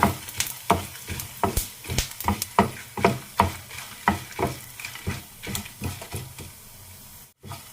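Chana dal, coriander seeds and dried red chillies dry-roast in a pan for a smoked brinjal curry, a spatula scraping and stirring in a steady rhythm of close, crisp strokes with a light rustle between them.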